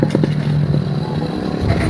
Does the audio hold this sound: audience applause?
no